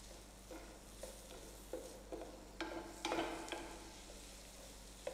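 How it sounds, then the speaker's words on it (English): Onions in a one-pot orzo pasta are stirred in a cooking pot, with a steady soft sizzle under a series of scraping strokes of a spoon against the metal, fairly quiet and close, with no talking. "Stir it again."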